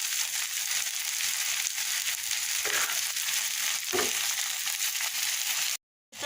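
Vegetables stir-fry uncovered in a pan with a steady, moderately loud sizzle. A couple of faint scrapes from stirring come through before the sound cuts off abruptly near the end.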